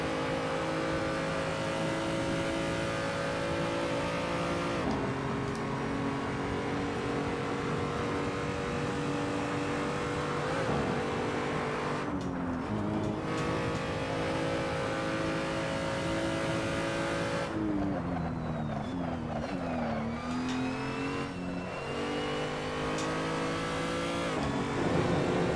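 A BMW 235i race car engine screams at full throttle on the Nordschleife, heard loud and continuous from on board, with sharp pitch drops at each upshift and sweeping rises as it accelerates again.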